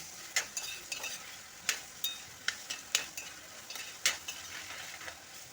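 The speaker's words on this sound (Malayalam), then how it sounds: "മഞ്ഞൾപ്പൊടി ഇട്ട പപ്പായ ചെറുതായി ഒന്ന് എണ്ണയിൽ വഴറ്റിയെടുക്കുക" Papaya pieces coated with turmeric sautéing in oil for a pickle, a soft steady sizzle broken by frequent scraping and stirring clicks from a spoon against the pan, close and without speech.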